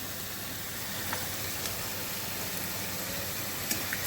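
Asafoetida dropped into hot oil for a tempering while making dhokar dalna, a faint, steady hissing sizzle that stays even throughout.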